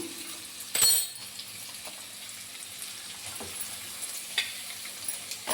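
Onions hit hot oil in a pan for an egg and dried prawn curry, with a burst of sizzle at the start that settles into a quiet, steady frying hiss with occasional stirring taps.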